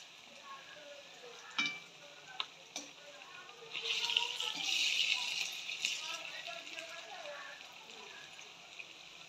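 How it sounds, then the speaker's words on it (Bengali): Raw banana koftas fry gently in oil in a pan over low heat, a soft steady sizzle that swells in the middle, with a few clinks of a utensil and a voice talking over it. "কোপ্তাগুলো ভাজার জন্য তুলে দিয়েছি।"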